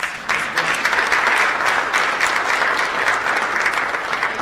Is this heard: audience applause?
yes